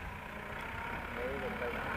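A tractor engine idles with a steady low rumble that stays fairly constant and moderately close throughout.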